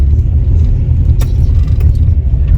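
A car driving away on a farm, a loud, steady low rumble of the engine throughout with a brief rattle midway, no voices heard.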